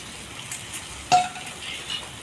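Chopped onions fry in a pan with a little salt, giving a steady close sizzle. One sharp utensil clink and a few soft stirring scrapes sound over it, with no talking.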